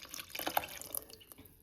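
Squeezed tamarind water is poured into a fish curry, a faint, brief trickle and drip of liquid, close and quiet with no talk.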